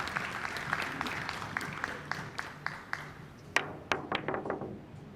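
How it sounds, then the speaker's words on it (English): Crowd applause rises in a pool hall during a World Pool Championship evening session, a faint scattered round of clapping with sharp distinct claps near the end. "I heard a round of applause"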